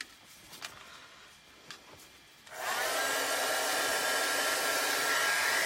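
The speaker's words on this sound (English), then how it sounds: "I'm going to take my heat tool and dry it out" A crafting heat tool switches on after a couple of quiet seconds and blows a loud, steady roaring whoosh while drying chalk paste, close up with no talking.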